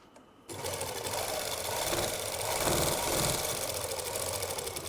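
A sewing machine stitches lace onto a dupatta, starting abruptly and then running as a steady, close, rapid mechanical whir and clatter with no pauses.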